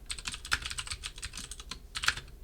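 Rapid, irregular keystrokes as a command is typed on a computer keyboard during a programming lecture, close and fairly quiet, with a couple of sharper key hits standing out, no voices.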